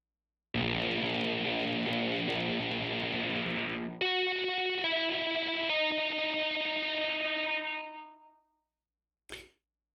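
Guitar synth with fuzz plays a song intro: a dense buzzing sustained tone gives way to a brighter stepping synth line, then fades out, with a brief burst of noise after.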